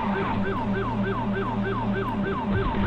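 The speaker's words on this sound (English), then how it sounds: "They don't hear the sirens?" A wailing police siren in a video game, GTA 5, cycles up and down steadily and loudly, repeating about every half second over a constant engine drone of a Tahoe.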